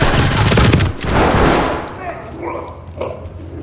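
Gunfire from the tactical shooter game Ready or Not, a dense loud burst of rapid shots in the opening second, then a second volley and scattered fainter pops as the action continues.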